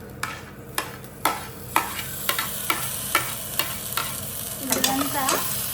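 A spoon stirring chopped tomatoes in a frying pan, with sharp regular scrapes and taps against the pan roughly every half second over a low sizzle, ending in a longer scraping sweep.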